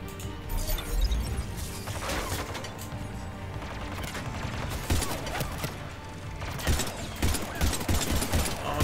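Pistol shots in Mass Effect: Legendary Edition from a weak starter pistol, scattered sharp cracks amid busy combat noise and clanking impacts, with several distinct shots near the end.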